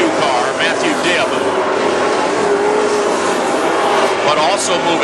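Dirt-track WISSOTA Super Stock race cars roar around Princeton Speedway, engines droning steadily and loudly with the pitch rising and falling as cars pass, while an announcer talks over the racing.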